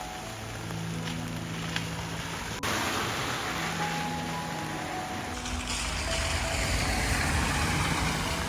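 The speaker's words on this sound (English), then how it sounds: "Let's check this car coming out now." A car drives out through deep flood water during a pouring thunderstorm, its engine and churning water a broad steady wash under heavy rain, rising louder toward the end.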